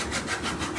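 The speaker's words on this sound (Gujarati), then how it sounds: "એને કહેવાય મશીન, સાપ કટર મશીન ઓરિજિનલ" A chaff cutter machine chops fodder leaves and stalks with a rhythmic, rasping grind. The bursts repeat about every third of a second, close and steady, with no talking.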